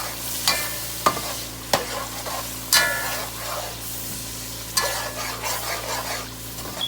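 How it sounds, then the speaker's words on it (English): Onions frying over high heat in a pan for a spicy onion sauce, a steady sizzle broken by sharp scrapes and clacks as a utensil stirs them every second or so. "Fry that up a little bit for about a minute."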